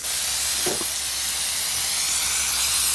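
A steady, loud hiss of an aerosol spray paint can marking lines on the ground runs continuously for a few seconds, close up, with a faint brief knock near the start.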